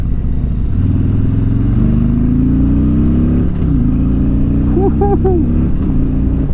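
A 2019 Harley-Davidson Street Glide 114 with a Milwaukee-Eight engine accelerates hard, its loud, close V-twin rumble climbing in pitch through gears with brief drops at shifts.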